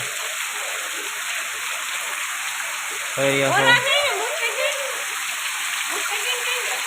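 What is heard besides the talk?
rain falling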